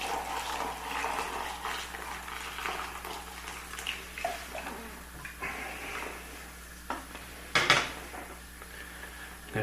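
Boiling water pours and splashes quietly into a muzzle-loader rifle barrel for cleaning, amid clinks of metal and small clattering, with a brief louder splash near the end.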